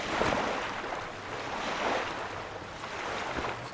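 Ocean waves washing onto the shore in Morrowind Tamriel Rebuilt, a steady, full rush of surf with gentle swells rising and falling, continuous and close, no voices.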